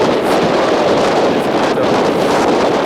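Strong wind buffets the microphone at the foot of a via ferrata at St Paul de Fenouillet, a steady loud roar with no letup and no voices.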